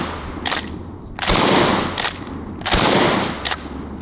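Pump-action trench shotgun slamfiring, fired with the trigger held down as the pump is worked: two loud booming blasts about a second and a half apart, each trailing a long echo, with sharp racking clacks of the slide before and between them.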